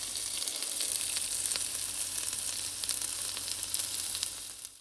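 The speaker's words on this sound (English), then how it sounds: "I have been sauteing them for about 10 to 15 minutes" Vegetables sauté in a skillet with oil and grease, giving a steady, close crackling sizzle with scattered small pops that fades slightly at the very end.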